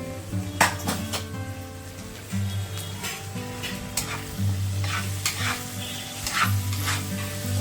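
Ginger-garlic paste with ground coriander, cumin, turmeric, chili powder and green chilies sizzles steadily in hot oil in a pan, with repeated scraping and stirring strokes close by and no talking.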